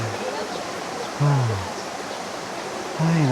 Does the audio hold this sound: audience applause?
no